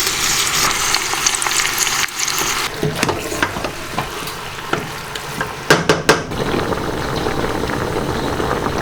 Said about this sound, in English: I like to stir it around as they melt down so that nothing burns on the bottom